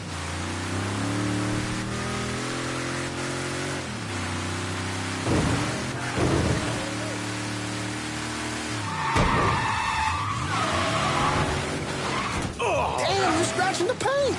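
A car in Mafia 3 drives and skids, engine tones rising and falling with sharp tire screeches and rough, crashing bursts toward the end, under game dialogue.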